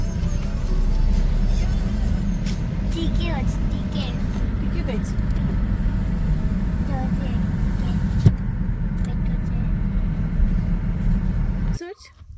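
A car's steady engine and road rumble carry on throughout while people talk over it, ending abruptly near the close.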